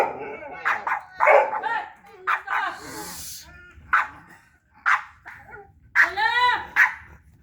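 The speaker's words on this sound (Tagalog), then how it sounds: "The dogs will gonna bark them." Several dogs bark in short bursts, some near and some farther off, with yips between the barks, while a person talks over and around them.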